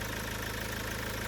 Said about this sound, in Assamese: বাকী ইঞ্জিনৰ চাউণ্ড শুনক, কিমান ধুনীয়া মজা স্মুথ হৈ আছে ইঞ্জিনটো চাওক।